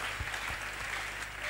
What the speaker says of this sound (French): Acclamez un peu le Seigneur.